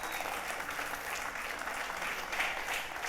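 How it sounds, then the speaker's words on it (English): Conference audience applause at a sustainable tourism event: continuous, fairly soft clapping from a seated crowd, holding an even rhythm throughout with no speech on top. "A round of applause also."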